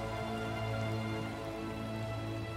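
Steady rainfall in the Minecraft video game, a continuous dense patter of drops that stays constant and fairly loud throughout, with no talking over it.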